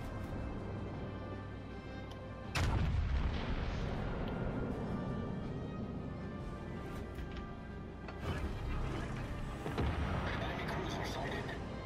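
Naval gunfire from the warship Vlad in World of Warships lands as two heavy, rumbling booms several seconds apart, over a low background drone, with voices talking throughout.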